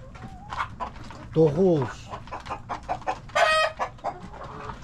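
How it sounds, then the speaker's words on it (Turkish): Adult chickens and two roosters clucking in a farmyard, with a few sharp, rising clucks and a brief loud squawk standing out over steady background noise while someone talks in Turkish. "10-12'ye kadar şey var, yetişkin tavuğumuz var."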